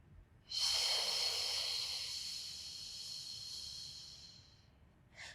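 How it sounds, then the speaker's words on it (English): A long, breathy exhale during a beginner pilates exercise: a close, soft hiss that swells at once, holds for several seconds and fades, followed by the start of another breath. "We in-breath. Exhale. In-breath."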